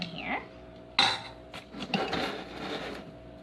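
Metal soup ladles clink and scrape against a pot in a few quick, close knocks, with soft handling noises in between.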